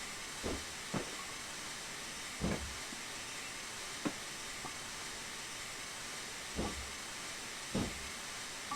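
A BR 4F steam locomotive in Train Simulator 2015 gives off a steady background hiss. Short louder chuffs or thumps break in at irregular intervals, and no one talks.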